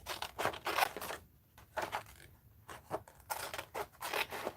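Scissors cutting paper for an art journal, a series of close, crisp snipping strokes in uneven bursts with short pauses between them.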